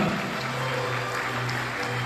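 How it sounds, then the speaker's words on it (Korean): Wedding guests in a Korean wedding hall applaud as the groom's mother lights the first candle, a brief steady patter of clapping with music underneath. "네, 여러분 큰 박수 부탁드립니다."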